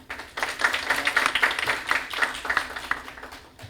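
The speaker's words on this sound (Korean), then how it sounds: "박수로 맞아주십시오." Audience at a defense policy forum clapping in welcome for a panelist, a fairly quiet but clear round of scattered handclaps rising quickly and continuing steadily before tapering off.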